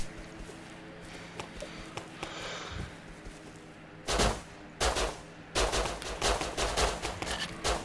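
Gunfire in the survival game Rust: scattered faint shots and clicks first, then loud close bursts of rapid automatic fire in several volleys toward the end.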